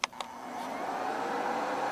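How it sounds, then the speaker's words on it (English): A heat gun on its low setting blows with a steady airy rush that rises quickly after a couple of brief clicks at the start and then holds even and fairly loud, with no talking. "give my heat gun a try"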